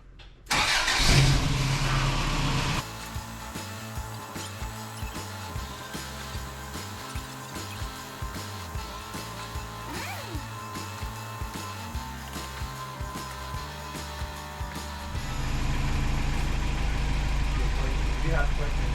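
Toyota truck engine cranking and catching, then settling into a steady mid-pitched idle before rising louder near the end; a voice may be faint underneath.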